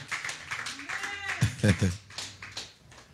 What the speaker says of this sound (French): Est-ce qu'on peut acclamer, vraiment acclamer